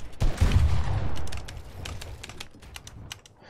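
Rapid gunfire spray in a Fortnite-style boxfight game, a dense burst of close shots up front that thins into scattered clicks and smaller pops.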